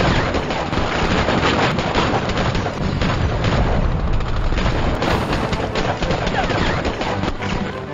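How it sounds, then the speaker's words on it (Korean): In a dramatized battle between the Dokdo volunteer guard and a Japanese patrol ship in the early 1950s, dense, continuous gunfire and booms fill the scene as a loud, unbroken barrage. "전대원 사격 개시."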